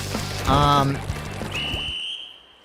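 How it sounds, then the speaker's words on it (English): A character splashes into water in the Splatoon video game during a Rainmaker match, a short pouring splash followed by a fading high electronic tone, under commentators' voices. "And Dylan falls in the water again."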